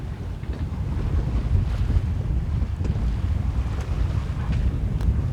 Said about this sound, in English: we've got 12 knots of wind